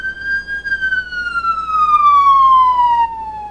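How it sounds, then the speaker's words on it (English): A police patrol car siren wails loud and close, one long steady tone sliding slowly downward in pitch, sounding out alone with no voices. "We ran the siren on the patrol car in hopes that Chris would hear it"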